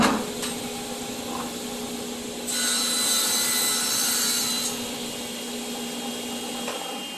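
A piece of wood is cut back while adjusting a pocket hole jig: a roughly two-second burst of cutting noise rises over a low background hum, then stops.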